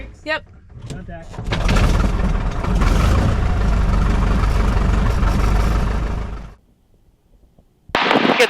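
A Waco UPF-7 biplane's radial engine cranks and catches, roaring loudly and steadily for about five seconds before cutting to near silence, then a burst of noise returns at the end; brief voices come before the start.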